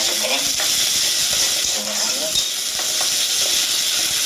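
Ginger garlic paste frying in a hot pan, a loud, steady sizzle and hiss with occasional stirring scrapes throughout.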